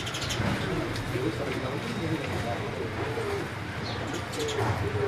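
Pigeons belonging to a pigeon keeper of Gujranwala coo in soft, repeated low calls with a few chirps, set against a steady murmur of background noise and voices.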